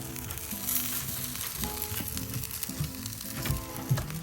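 Lamb chops sizzling on a Weber grill, a steady close frying hiss with occasional pops and scraping handling sounds, no voices.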